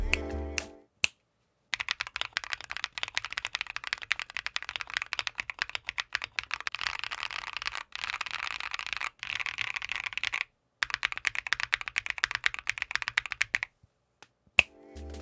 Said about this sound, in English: Here's a quick sound test with some ABS keycaps after removing both of the bottom layers of case foam.